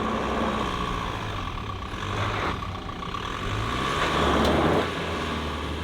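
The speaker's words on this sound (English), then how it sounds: "it's hunting for traction, finding it, and then inching forward one mogul at a time" A Sprinter van in four-wheel drive crawls over moguls while hunting for traction, its engine a steady low drone that swells and eases as it inches forward, loud and close with no talk.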